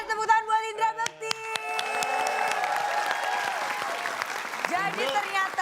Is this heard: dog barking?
no